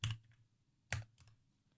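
Two quick bursts of computer keyboard typing, close and quiet, separated by a short pause with a few lighter key clicks after.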